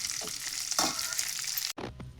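Curry leaves fry crisply in hot oil for a garlic puffed-rice snack, a close, continuous crackling sizzle with stirring scrapes and a brief break near the end.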